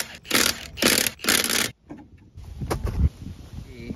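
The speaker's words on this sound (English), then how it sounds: "now we just need to torque the caliper, which takes 18 foot-pounds of torque" Torque wrench with a 19 mm socket tightening the front brake caliper bolts on a first-generation Subaru BRZ: three loud bursts of ratcheting close up, then quieter clanks and handling noises.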